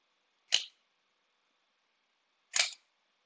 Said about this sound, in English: How fast that goes up and down controls your shutter speed.